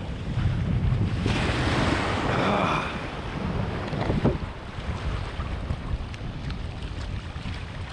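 Cold sea surf churns and washes around a swimmer, a loud rushing roar mixed with heavy wind buffeting the microphone, with no talking.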